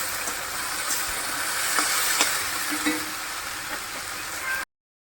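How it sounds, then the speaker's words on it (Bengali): Vegetables fry in a pan for a light home-cooked curry, a steady broadband sizzle that holds evenly throughout with a few soft stirring clicks and faint background voices, then cuts off abruptly. "সবজিগুলো একটু ভেজে নেবো"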